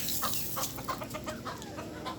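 Small chickens on a home farm cluck in quick, repeated short calls against a steady background hiss, fairly quiet and with no one talking.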